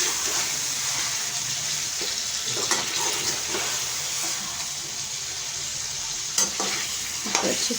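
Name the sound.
frying and stirring aloo gosht in a pot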